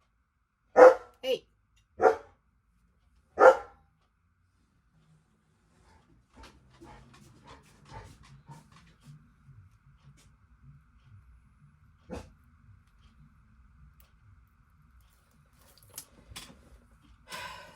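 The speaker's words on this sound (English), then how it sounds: "One dog moves, the other one barks, thinking somebody's outside." A household dog barks four sharp, loud times, thinking someone is outside, then falls quiet while soft indoor rustling and handling noises follow, with a brief voice in between.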